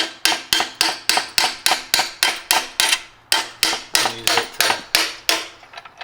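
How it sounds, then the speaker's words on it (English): Fourteen or so sharp metallic hammer strikes on a bolt in a steady rhythm, close and loud, each ringing briefly before the next blow. "Then we'll take the hammer and this trash bolt that we have laying around"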